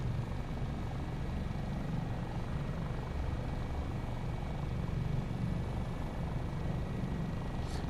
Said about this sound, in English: No, we're hover taxiing.